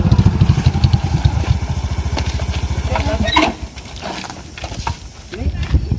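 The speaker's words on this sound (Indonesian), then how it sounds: "Wih motor baru." A new motorcycle engine runs with a steady, rapid idle-like pulsing, loud and close at first, then drops lower and rougher partway through while voices talk nearby.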